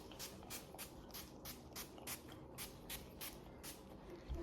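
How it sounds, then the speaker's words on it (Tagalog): A pump bottle of 90% aloe vera face mist is sprayed onto a face in a quick series of about a dozen short, soft hissing bursts, close and quiet, with no talking. "So you spray it all over my face"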